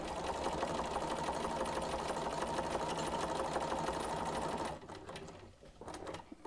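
Sewing machine running steadily as it stitches a quarter-inch seam on quilt block strips, a loud continuous motor whir for several seconds before stopping, followed by faint handling noises.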